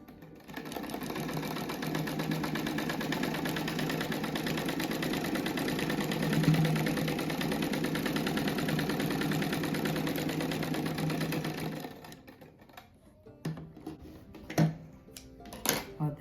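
Sewing machine stitching a seam on denim from old jeans, a loud, even mechanical whir running close for about twelve seconds, then stopping into scattered handling knocks and rustles.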